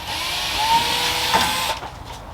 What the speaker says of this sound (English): I'm going to just screw this bit in quickly.